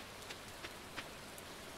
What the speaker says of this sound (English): Alright, I'm gonna be fishing in the rain.